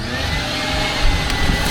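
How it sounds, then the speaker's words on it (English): A vacuum sucks up fire ants from an old rotting Baretta boat, a loud steady whooshing roar with a few brief thumps as debris is drawn in. "You suck them up with a vacuum"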